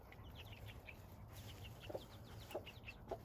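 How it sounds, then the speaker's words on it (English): Hens and a rooster cluck softly in a small backyard flock, a few short distinct clucks standing out over a faint steady background hum. "I have two hens and one rooster."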